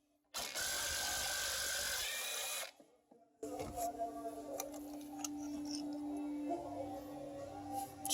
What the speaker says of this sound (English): but you can just ratchet it out